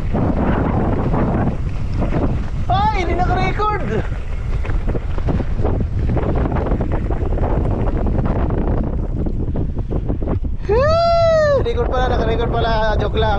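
Steady wind buffets a microphone outdoors during a holiday ride and jump session, a constant broadband rush under bursts of voices and two whistling tonal sweeps.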